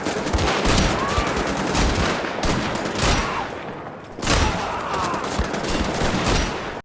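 The Jackhammer automatic shotgun in the video game Wolfenstein: The Old Blood fires in a loud, continuous rapid burst of booming blasts, with a brief break before the barrage resumes.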